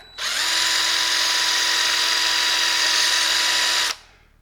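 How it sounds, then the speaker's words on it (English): An electric drill holding a part from a 1940s Chevy shock absorber spins up and runs at a steady high-pitched whine for about four seconds, then cuts off abruptly. "So we'll just put it in the old drill."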